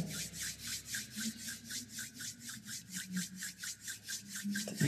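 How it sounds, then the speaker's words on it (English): Two palms rubbing gently together during a breathing meditation, a soft steady swishing in even back-and-forth strokes, close and quiet, with no talking. "Bring your hands in front of your heart and gently rub your palms together."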